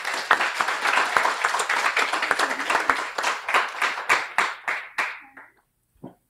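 Audience applause at a guide dog graduation ceremony, a dense burst of many hands clapping that thins into a few scattered claps before fading out.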